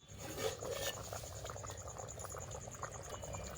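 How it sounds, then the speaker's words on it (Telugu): A Telangana fish curry simmers in a covered pot, a faint, steady bubbling and gurgling that runs throughout with soft irregular pops. "కూర అయితే మసులుతుందండి"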